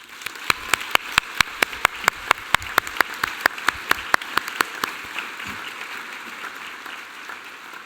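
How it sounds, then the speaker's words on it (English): Applause from a University of Newcastle graduation audience in Australia, starting as a sparse run of sharp, evenly spaced claps that thin out and fade to a quiet hall. "I would like you all to give a huge round of applause for them"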